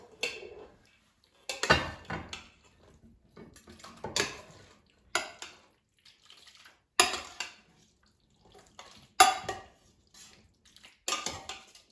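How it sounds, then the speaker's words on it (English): Metal Instant Pot inner pot and utensils clatter while Hamburger Helper is scooped into a serving dish, a series of sharp scraping and clanking bursts separated by quiet pauses. "So just take out the inner part of the Instant Pot."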